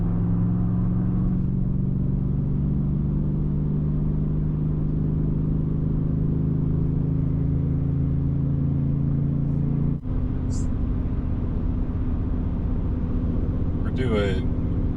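A 2023 Ford Raptor R truck on 37-inch tires cruises along the road at highway speed, its steady low engine and road rumble droning continuously, with a brief thump partway through.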